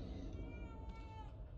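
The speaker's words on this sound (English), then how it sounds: "Got something for me, kitty?" A cat meows in the survival horror game The Evil Within 2, one drawn-out meow over a steady low game ambience, moderately faint.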